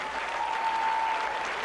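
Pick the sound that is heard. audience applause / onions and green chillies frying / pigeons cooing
audience applause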